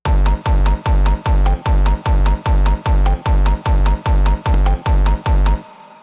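A reprocessed pluck loop taken from the Cashmere sample pack plays as a steady, loud pattern of about thirteen evenly spaced hits with deep low end, stopping abruptly near the end, with no voices.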